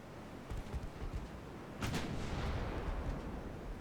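Naval gunfire in a warship video game, a low rumbling boom that swells into a sustained roar under constant background noise, with no speech.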